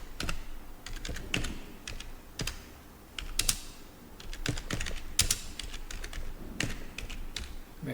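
Rapid typing on a computer keyboard while a small Selenium test script is written: irregular bursts of crisp, close key clicks with brief pauses between runs, heard alone.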